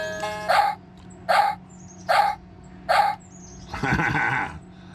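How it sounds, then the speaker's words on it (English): A wireless doorbell chime plays a recorded dog barking sound: four evenly spaced single barks, then a longer, rougher bark, close and tinny over a faint hum. "A dog barking."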